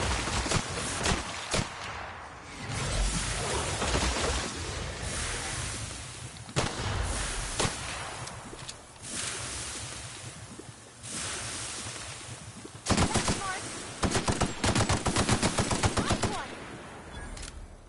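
Pistol gunfire in the video game The Outer Worlds: loud bursts of rapid shots in clusters, with a dense fast volley near the end, over a continuous rushing game background.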